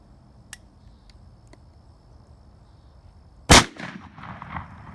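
A single sharp, loud gunshot cracks out after a few faint ticks, blowing apart a pumpkin, with a short burst of scattering debris and rattle trailing off behind it.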